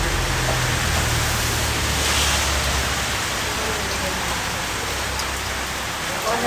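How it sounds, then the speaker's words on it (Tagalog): Steady, dense rain hisses throughout, loud and close, with a faint low hum underneath. "Saktong-sakto umuulan."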